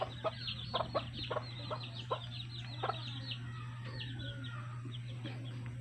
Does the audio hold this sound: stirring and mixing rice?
no